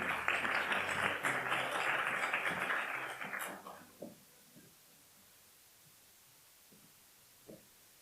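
Audience applause for a student contestant at a Korean-language speech contest during a Japan-Korea friendship festival in Shizuoka, loud and steady for about four seconds before cutting off into near silence with a faint knock.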